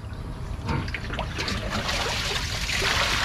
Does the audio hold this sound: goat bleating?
no